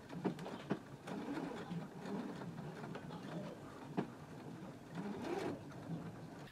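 A sewing machine stitches dress binding diagonally for Simplicity pattern 8890, quiet rhythmic needle runs in short bursts with small pauses and soft clicks between them.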